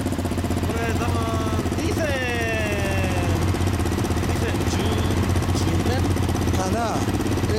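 A loud, steady 2017 Honda CB1100RS motorcycle engine idling with an aftermarket muffler, a deep, throbbing exhaust note throughout, while voices talk over it.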